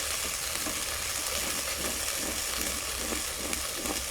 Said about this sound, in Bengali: তেলের মধ্যে দিয়ে দিব 2টো শুকনো লঙ্কা, কিছুটা 5 ফোড়ন, দিয়ে দিব আদা রসুন বাটা, এরপরে দিয়ে দিব পেঁয়াজ টমেটো বাটা